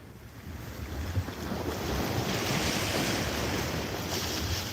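Ocean waves break on a shallow beach of very clear, calm water, a continuous wash of surf that swells and holds steady, mixed with wind buffeting the microphone and no talking.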